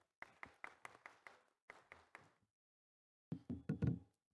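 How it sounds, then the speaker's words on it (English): A few separate claps ring out in a large hall during an accountants' national conference, a sparse, uneven run of sharp hand strikes, then a pause and a brief louder cluster of claps. "A great round of applause, please."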